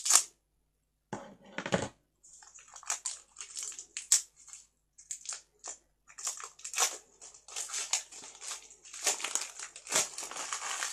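Wrapped clean-cotton scented candle being unwrapped at a craft table: crinkling and crushing plastic or paper wrapping in irregular close bursts with short pauses, no one speaking.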